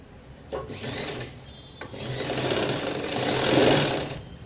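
Sewing machine stitching a party-wear gown, a steady close whirring run with brief pauses near the start, building louder toward the end, with no talking.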